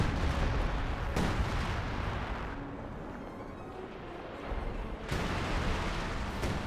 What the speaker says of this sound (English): Here comes the Katusha barrage.